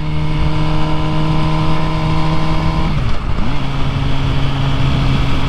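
An MV Agusta Brutale 1000RR motorcycle in race mode, its engine droning loud and close at a steady pitch, then dropping briefly as the throttle closes before climbing back to a sustained hum.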